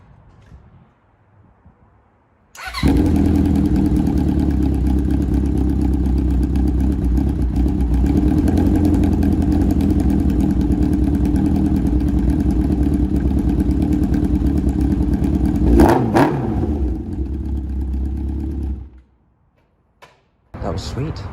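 A motorcycle engine is started on the choke, then idles loudly and steadily close by with some revving for about fifteen seconds before cutting off, leaving near silence.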